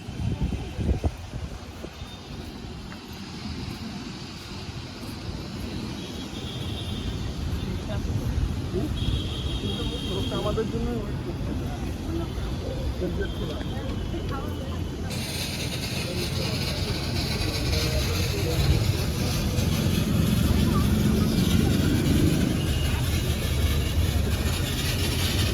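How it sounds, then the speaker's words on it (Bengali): Launch ferry on a river between Dakshineswar and Belur Math, its engine making a steady low rumbling drone. The sound stays continuous and fairly loud throughout, with some crowd murmur in the background. "তো এই জাস্ট লঞ্চে আমরা উঠে গেছি।"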